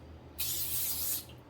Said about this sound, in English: I'm just gonna honestly spray this glue right over top.